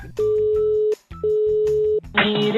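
A telephone line tone after a call is hung up: two steady beeps, each just under a second long with a short gap between, then a burst of noisy rustle at the end.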